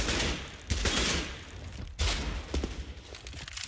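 Desert Eagle pistol shots in CS:GO at an Immortals vs OpTic Gaming grand final match, heard as loud, sharp reports, two prominent, with scattered game sounds in between and no speech.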